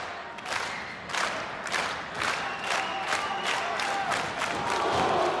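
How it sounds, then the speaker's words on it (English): A wrestling crowd booing at a live match, a broad roar of many voices with rhythmic swells and scattered shouts filling the arena, loud and continuous. "The crowd booing here"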